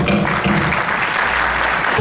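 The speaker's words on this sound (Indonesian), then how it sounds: "beri tepuk tangan." A large crowd applauds in a hotel grand ballroom during a church gathering, loud, dense and continuous, with a low hum beneath.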